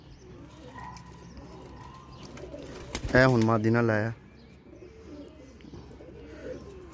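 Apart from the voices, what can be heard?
pigeons cooing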